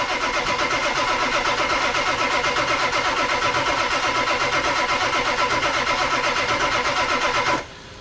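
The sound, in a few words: Ford 7.3 Powerstroke diesel engine cranking on starter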